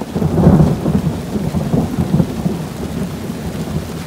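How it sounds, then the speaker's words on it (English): A thunderstorm with heavy rain, where deep thunder rumbles roll under a steady wash of downpour, loud and continuous throughout with no voices. "And the heavens have just opened up."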